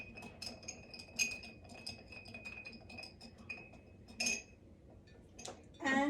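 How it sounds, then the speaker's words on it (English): Ice cubes clink and tick against a glass as a Sazerac cocktail is stirred over ice, a light, irregular series of faint chimes and taps with small louder rattles near the end. "I'm gonna chill that a little bit by stirring it with the ice."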